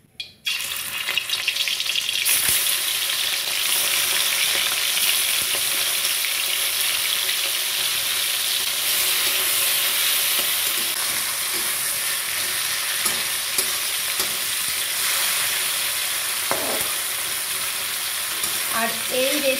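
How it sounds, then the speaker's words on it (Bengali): Prawns sizzle steadily in hot mustard oil in a wok, a loud, dense frying hiss that holds evenly for nearly twenty seconds, with a few soft clinks and stirring scrapes near the end. "এবার আমি চিংড়ি মাছগুলো ছেড়ে দিচ্ছি।"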